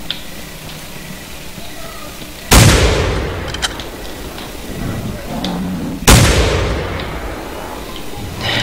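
Two loud, sharp gunshots from a hunting rifle in the dinosaur-hunting video game theHunter: Primal, about three and a half seconds apart, each with a booming echoing decay over a quiet outdoor background.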